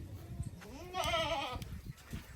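A Sirohi goat on a goat farm gives a single clear bleat near the middle, fairly close, over a low murmur of background noise.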